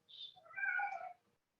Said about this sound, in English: All sorts of running and mewling coming from the living room.